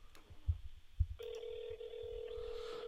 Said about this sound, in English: So we're ringing now.